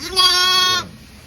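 A lamb on a dairy farm gives a single loud, close bleat lasting under a second, then quiet.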